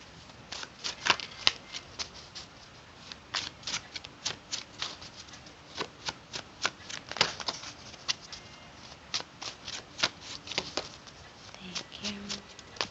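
Tarot cards shuffled by hand in a quick, uneven patter of sharp riffles and slaps, close and clear, with faint talk in the background.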